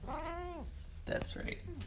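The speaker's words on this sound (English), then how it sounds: "That's my cat, by the way." A pet cat named Aji meows with a rising then falling harmonic call in the first half-second, close by, before someone speaks briefly over the room.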